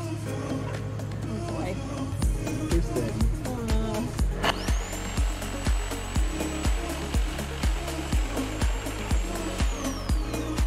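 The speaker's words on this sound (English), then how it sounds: "first time on the sawzall" A Sawzall reciprocating saw cuts during a ladder build on a school bus conversion. It runs steadily and loud, with rhythmic strokes pulsing about twice a second, and a sustained high whine joins midway. Faint voices are nearby.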